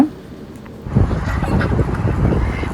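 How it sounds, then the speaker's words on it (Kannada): A flock of ducks crowds behind a person scattering feed, giving a dense, close chorus of quacking and squabbling calls that starts abruptly and keeps going without pause. "ಎಲ್ಲ ಅವಳು ಹಾಕೋದು ನೋಡ್ಬಿಟ್ಟು ಪೂರ್ತಿ ಡಕ್ಸ್ ಅಷ್ಟು ಅವಳ ಹಿಂದೆ ಓಡಿ ಬರ್ತಾ ಇದೆ"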